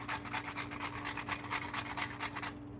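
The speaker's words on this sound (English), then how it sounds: "that's how I teach you to grate a nutmeg" Nutmeg grated on a hand grater while making plantain and sweet potato porridge gives a close, quiet, rhythmic rasping with repeated scraping strokes, ending in a brief pause.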